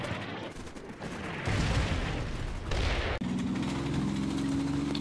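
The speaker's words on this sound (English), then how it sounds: "My heavy artillery lands on main hill, but enemy spotting rounds are landing in the center forest." Heavy artillery shells landing in Combat Mission Shock Force 2, with a rolling series of dense, rumbling impacts and crackling bursts, loud and continuous, shifting into a steadier low mechanical drone near the end.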